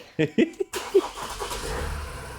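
A few short cranking bursts, then a Ford Transit van's diesel engine catches after an injector repair and settles into a steady, moderately loud idle.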